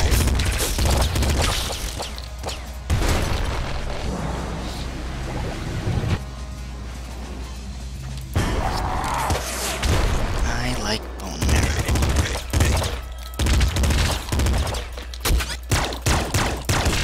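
Rapid gunfire from the top-down shooter Nuclear Throne, with repeated sharp shots and bursts over game effects, and a voice talking throughout.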